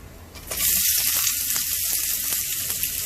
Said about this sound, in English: Wait for all the ingredients to splutter a little.